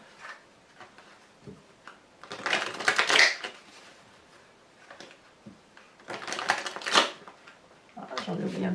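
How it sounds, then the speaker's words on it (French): Tarot cards being handled and laid down on another card, giving close papery swishes and slides in two main bursts with quieter rustles between. "carte complémentaire que l'on va poser sur cette carte socle"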